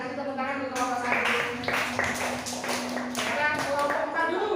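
Classmates clap for group 1 during a school presentation, a few uneven rounds of hand claps with pauses between bursts, close and fairly loud over a faint tonal hum in the room.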